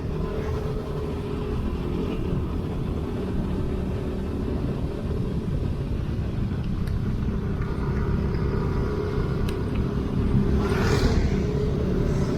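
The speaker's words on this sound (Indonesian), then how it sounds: "Hati-hati ada truk nih." Riding a motorcycle along a hilly rural road in Bali, steady engine and wind rumble fills the whole stretch while a truck passes nearby, a louder swell building near the end.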